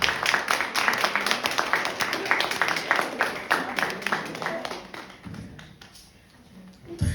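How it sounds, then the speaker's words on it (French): An audience at a mental health talk breaks into sustained, dense applause that holds for several seconds, then thins out and dies away, leaving a few last claps. "je vous invite à vous applaudir"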